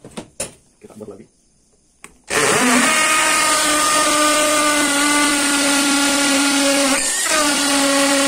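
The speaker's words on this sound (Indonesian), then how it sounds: "Kita bor lagi." A power drill bores into a wall while fitting an IKEA Ekby Lerberg bracket, a steady loud whine running nonstop after a few seconds of quieter handling noises, with a brief dip in pitch near the end.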